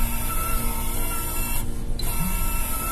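A GMDSS modem printer prints a loop test confirmation, a continuous loud mechanical whirr with a tonal buzz that dips briefly in the middle before resuming.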